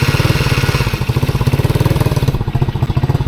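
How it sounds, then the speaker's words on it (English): ATV engine idling on a newly fitted carburetor, a loud, close, even putter with a fast regular pulse that holds steady, with no voices. "Yes, it's got a perfect idle."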